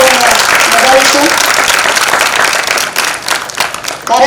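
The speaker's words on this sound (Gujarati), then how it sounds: "આપણે જોરદાર તાળીઓથી એકવાર આ ઓનલાઈન દાતાઓને વધારીશું." Audience at a Gujarati thanksgiving gathering in Dakor applauding online donors: a loud, dense wash of clapping fills the whole clip, easing slightly near the end, with faint voices mixed in.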